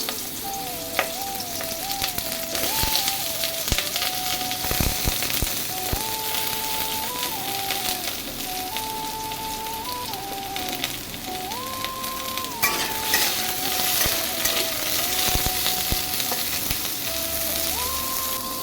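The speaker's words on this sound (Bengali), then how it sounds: "আলু আর পটলগুলো কিন্তু কেটে নিয়েছি, এবার এইগুলো আমি ভেজে নেব।" Cut potatoes and pointed gourd frying in a pan, a continuous close sizzle with intermittent clinks and scrapes of stirring.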